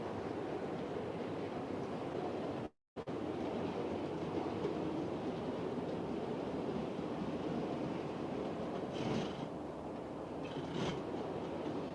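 Continuous rumble of model tank engines, a little 06 and a 264, hauling mixed freight and passenger trains around a layout, a steady close running drone with a brief dropout and faint clicks.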